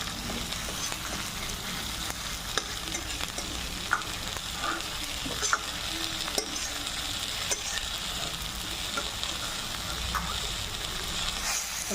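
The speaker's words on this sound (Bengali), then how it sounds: "টমেটোটা একটু ভেজে নিচ্ছি।" Whole tomatoes frying in hot oil in a home kitchen while cooking a vegetarian pumpkin dish, giving a steady close sizzle with occasional stirring clinks and scrapes throughout, with no talking.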